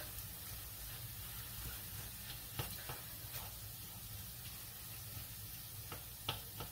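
Meat browns in a pan with a soft, steady sizzle, broken by a few scraping stir clicks and light taps, all fairly quiet.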